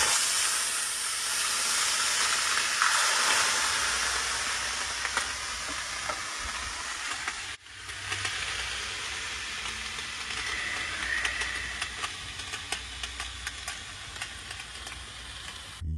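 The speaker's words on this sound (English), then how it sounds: "when you throw that water on them rocks, guys, it kicks it up about 10 notches, gets it super hot and steamy" Water is poured onto hot sauna stove rocks heated to around 180–200 degrees, releasing a loud, close hiss and sizzle of steam that surges, briefly drops, then crackles on with scattered pops.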